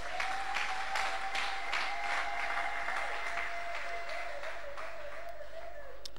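A church congregation applauding during a French-language service, steady sustained clapping under a held musical tone, moderately distant and even throughout.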